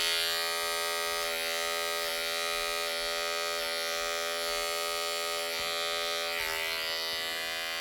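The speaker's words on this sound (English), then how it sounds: "you want to go nice and slow with your clippers" Electric hair clippers buzz steadily and loudly, close up, while moving slowly through straight hair for an Ivy League fade, the tone wavering slightly as the blades bite, with no voices.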